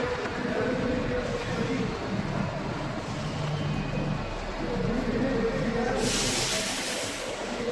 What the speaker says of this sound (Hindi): मेट्रो आ गई है जी, बस आ गई है